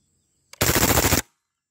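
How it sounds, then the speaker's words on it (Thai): A KWA Kriss Vector gas blowback airsoft gun fires a single rapid burst of about half a second, loud and close, preceded by a brief click, then silence. "จะทำการยิงทดสอบปืน KWA Chris Vector ระยะประมาณ10กับ10เมตรนะครับ"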